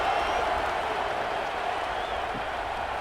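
A video game stadium crowd in College Football 26 during a Texas at Clemson matchup keeps up a steady, dense roar of cheering and applause for the whole stretch, broad and continuous with no pauses.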